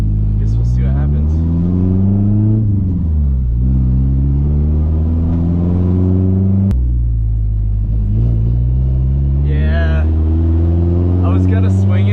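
A car drives along a snowy road with a steady, loud engine drone and low rumble throughout, pitch rising and falling as it accelerates and eases off, while a person talks over it.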